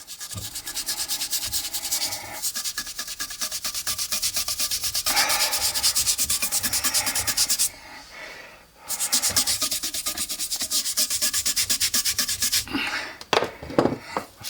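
A brush scrubbing dark residue off a large shrimp, rapid rhythmic bristly scraping strokes, loud and close, with a short pause midway and a brief break near the end.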